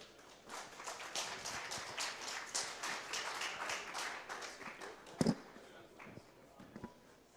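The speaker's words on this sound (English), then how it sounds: "we're going to give an applause to the CEO of Debifi, Max K" Quiet, scattered applause from a small audience at a Bitcoin Atlantis panel, irregular claps building briefly then thinning out, with a couple of sharper close claps near the end.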